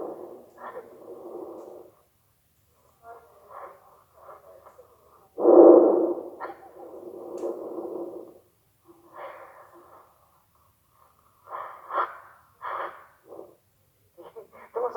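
A mare breathes and snorts right into the microphone, making close, loud bursts of huffing breath that come in irregular clusters separated by short silences.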